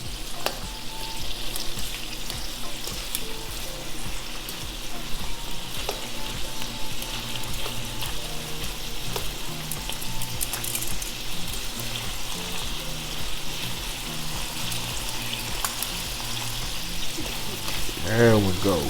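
Shrimp frying in a pan, a steady close sizzle throughout with a brief clatter of tossing at the end.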